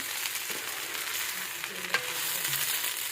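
Rice dry-fries in a multicooker pot, giving a steady close sizzling hiss with occasional light scrapes of stirring, no one speaking.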